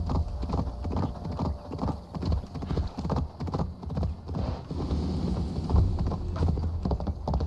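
Rapid galloping hooves pound in a driving rhythm, close and loud, with a horse's whinny mixed in, from the video game Assassin's Creed Valhalla.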